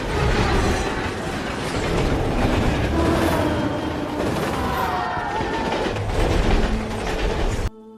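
A train rolls steadily along the rails, with continuous rumbling and a rhythmic clatter of wheels, loud and close, before cutting off abruptly at the end.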